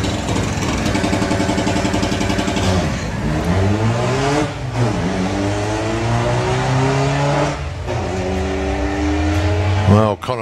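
An Audi and a VW Beetle drag racing at Santa Pod's Bug Jam, engines loud and straining through repeated upshifts, revs climbing and dropping in waves, with a commentator talking over the noise.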